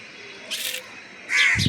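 A crow calls in a short outdoor morning setting among other birds, two brief harsh caws about a second apart, the second louder and closer, over faint background.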